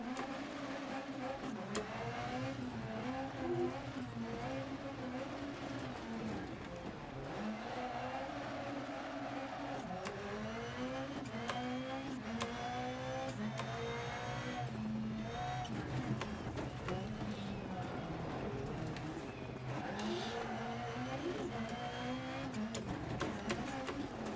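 Rallycross cars racing in Dirt Rally 2.0, with a 2019 Peugeot, Audi or Fiesta, engines revving hard and shifting through gears throughout, plus tyre and gravel noise, steady and close, with speech faintly underneath.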